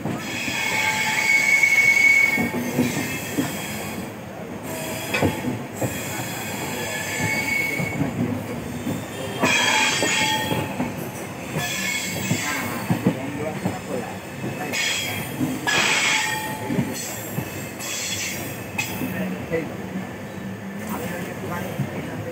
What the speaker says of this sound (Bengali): তো ফাইনালি আমাদের ট্রেন বোলপুর ঢুকছে